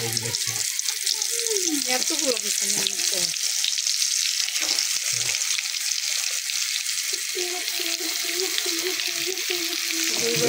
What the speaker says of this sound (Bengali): দেখেন বেগুন ভাজি করবে।